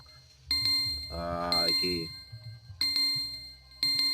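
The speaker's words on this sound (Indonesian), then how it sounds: "Ganggu ae lur HP-ne muni, ana wong ngebel" A mobile phone rings with an incoming call outdoors, its bright repeating chime tones sounding in bursts a few times over low background noise.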